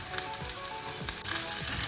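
Cut green chillies frying in a pan of oil for okra stew, a close, steady crackling sizzle with a few faint stirring scrapes.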